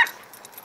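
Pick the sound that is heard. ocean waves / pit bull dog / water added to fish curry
pit bull dog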